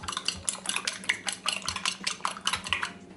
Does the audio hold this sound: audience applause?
no